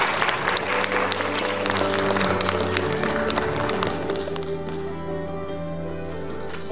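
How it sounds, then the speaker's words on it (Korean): Loud, dense applause from a forum audience at the opening ceremony of the Nogunri International Peace Forum, sustained clapping over a low musical backdrop that gradually thins out. "네, 여러분 박수로"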